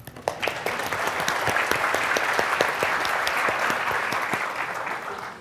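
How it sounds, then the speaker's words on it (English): An audience breaks into sustained applause in a lecture hall, dense steady clapping that swells in quickly, holds for about five seconds and then starts to taper, with no talk over it. "round of applause for the people actually in the cloud."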